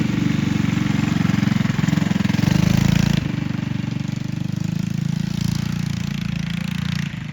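An offroad mini bike with a 6,000 rpm racing motor runs close by with a loud, buzzy, pulsing engine note. It surges briefly at about three seconds, then settles into a steady, rough running hum.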